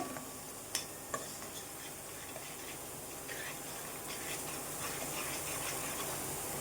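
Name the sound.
gram flour roasting with tomatoes in a pan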